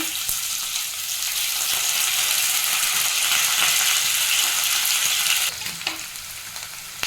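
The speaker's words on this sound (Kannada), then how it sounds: "ನೋಡಿ ಈ ಕಡೆ ಸ್ವಲ್ಪ ಈರುಳ್ಳಿಯನ್ನು ಫ್ರೈ ಆಗ್ತಿದೆ" Onions fry in a hot pan with mustard seeds, cumin and curry leaves, giving a loud, dense, steady sizzle up close that eases slightly near the end, with no one talking.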